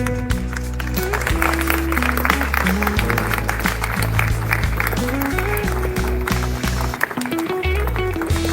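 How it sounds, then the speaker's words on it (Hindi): Clapping from the audience at an Ambedkar Jayanti celebration in a polytechnic hostel, sustained and fairly loud, under a continuous layer of music. "तालियां रुकनी नहीं चाहिए।"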